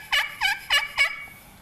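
A slate turkey call imitating a hen turkey gives four loud, close yelps in an even rhythm, followed by a fainter fifth note.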